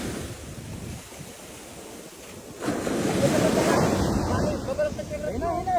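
Ocean waves surge and break close by in rough water, a soft wash building into a louder, roaring crash about halfway through, with gusts of wind buffeting the microphone.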